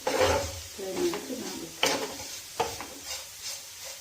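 Bitter gourd slices fry in a pan while being stirred, with soft sizzling under sharp spatula scrapes and clinks against the metal, close and intermittent.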